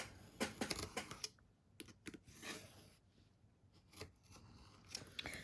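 Scissors snip through craft material and lace while it is cut down to size for a textured masterboard, giving a close run of quick, uneven cuts and crunches with short pauses between them.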